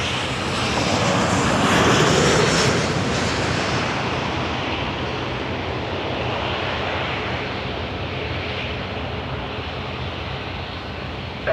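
Aircraft engine roar at Toronto Pearson Airport, likely a Dash 8 turboprop lining up on the runway, a loud steady broadband drone that swells early then holds, with no talk over it.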